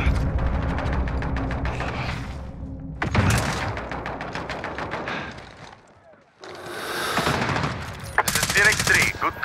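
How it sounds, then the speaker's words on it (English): Rapid automatic gunfire from a UAV in the Call of Duty Modern Warfare video game. It comes in loud, dense bursts with heavy thuds and brief gaps, and radio-style voices are also heard. "UAV beginning fire."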